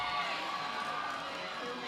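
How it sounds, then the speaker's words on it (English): Spectators at a junior roller derby championship game swell into a steady, rising roar of noise, moderately distant and continuous throughout. "The crowd is getting loud here"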